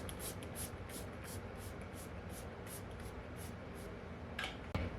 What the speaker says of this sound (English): Going to spray the entire face.